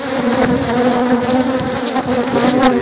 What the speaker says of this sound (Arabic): يطلع النحل